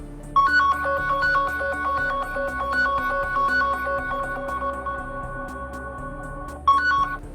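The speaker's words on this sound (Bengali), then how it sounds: "ওটাতে ট্যাপ করা মাত্রই আপনার ফোন সাইলেন্ট থাকলেও এরকম একটা নোটিফিকেশন সাউন্ড বেশ লাউডলি বাজবে" An Android phone rings loudly from the Find My Device play-sound alert, overriding silent mode: a bright, repeating electronic melody played close, cutting off briefly near the end and then starting up again.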